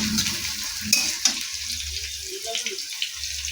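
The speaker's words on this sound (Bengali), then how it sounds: "এই কড়াইয়ের মধ্যে তেল দেওয়ার পরে আমি এখানে পেঁয়াজ দিয়েছি।" Onion sizzles in hot oil in a wok, a soft steady crackle punctuated by a couple of sharp clinks from stirring, close by and alone.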